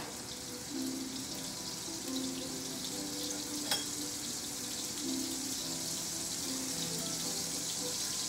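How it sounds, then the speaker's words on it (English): Steady sizzling of raw Italian sausages and mixed vegetables frying in a hot pan, a constant hiss with occasional small pops and a brief clink. "See it sizzling, all right."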